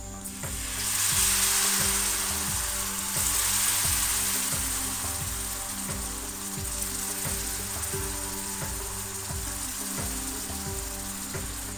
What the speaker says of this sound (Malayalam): ഞാനിപ്പോൾ ഇവിടെ ഒരു 4 സ്പൂൺ വിനാഗിരി ചേർത്ത് കൊടുക്കുകയാണ്.